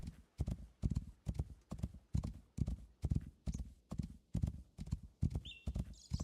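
Horse hooves clop in a steady, even rhythm while riding in the game Rising World, each step sharp and close, with a brief high whistling tone near the end.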